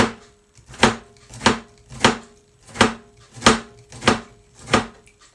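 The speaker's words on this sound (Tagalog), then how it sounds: "Medyo manipis lang yung pagkahiwa ninyo. Huwag naman masyadong makapal." A knife slices vegetables thinly for a healthy salad, eight evenly spaced crisp chops striking the cutting board close up in a steady rhythm, with no talking.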